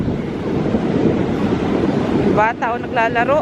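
Sea waves and strong wind on the coast at Whitby, England, make a steady rushing roar with buffeting wind noise on the microphone, close and loud, and a person starts talking near the end.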